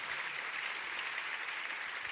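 Steady applause from a church congregation honoring an apostle during a French-language worship service, dense continuous clapping throughout, no voices standing out.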